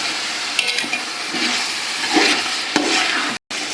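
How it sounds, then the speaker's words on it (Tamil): Beans, carrot and potato stirred and sautéed in a pan for a large batch of vegetable biryani, a steady sizzle with scraping spoon strokes throughout and one brief silent gap, no talking. "இந்த பீன்ஸு, கேரட்டு, உருளைக்கிழங்கு எல்லாம் நல்லா வதங்கணும்"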